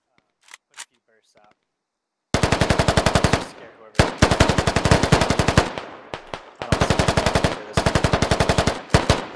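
AR rifle fire in the military shooter game Squad: a few faint shots, then long rapid bursts of loud, closely spaced cracks broken by brief pauses, with voices heard over parts of the gunfire.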